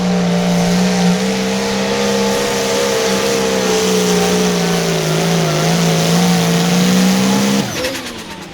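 A pulling tractor's engine roars loudly and steadily at a sustained pitch during an 8,500 lb. pull in Mound City, Missouri, then abruptly cuts off near the end.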